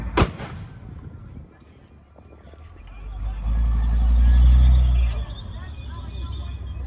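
An M60 tank pivots into firing position during a live tank demonstration show, its engine rumbling low and heavy as it swells to a loud, sustained roar midway, then eases back, with a sharp report near the start and a commentator talking over it.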